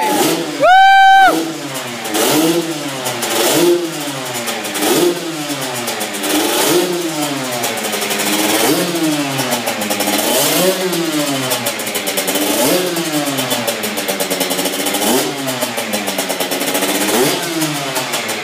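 A Suzuki RM65 dirt bike, brought back after eight years sitting in a barn, revs its two-stroke engine in repeated rising and falling sweeps, loud and close, with people cheering briefly at the start.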